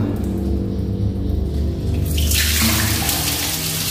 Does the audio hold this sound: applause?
no